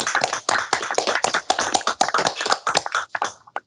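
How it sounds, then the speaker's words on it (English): Scattered hand claps from a small group unmuted at the end of an online meeting, close and uneven, in bursts of a few claps with short gaps between. "I think we can all possibly unmute and show our applause in the old-fashioned way as well"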